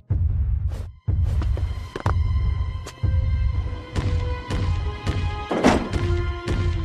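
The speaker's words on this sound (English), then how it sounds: "The ogre's footsteps shook the house." Heavy, booming ogre footsteps for a Jack and the Beanstalk story: a steady series of loud, deep thuds about once per second, each ringing out briefly, with no voices over them.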